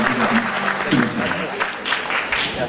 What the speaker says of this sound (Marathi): यामुळे नक्कीच जोरदार टाळ्या झाल्या पाहिजे